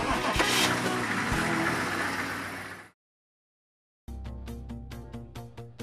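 A car engine roars loudly and revs, cuts to a brief silence, then returns with a rhythmic run of engine pulses as the vehicle sets off on a drive along the Western Australian coast north of Carnarvon.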